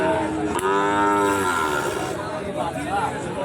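Young Sahiwal cattle moo loudly nearby at a cattle market, a long drawn-out low call followed by another, over a murmur of crowd chatter and price bargaining.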